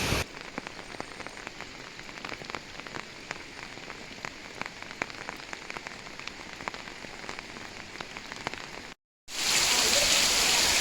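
Steady Konkan monsoon rain pattering on a surface with scattered drop hits, a brief dropout, then a louder, harsher burst of downpour noise at the end.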